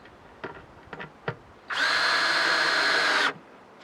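A power drill bores a hole into wood with a loud, steady whine that lasts about a second and a half. A few light knocks and handling clicks come before it, and the drilling stops abruptly.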